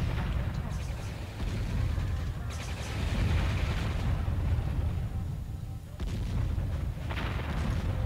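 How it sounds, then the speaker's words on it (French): Strategy video game battle with continuous rumbling artillery fire and bursts of gunfire, dense and loud throughout, with a few sharper blasts standing out and no clear talk. "Allez, on tire sur quelque chose là, faites quelque chose."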